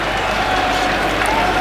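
A cricket crowd at an England v India test match rumbles with broad, sustained cheering and applause for a stroke, with a commentator talking over the roar.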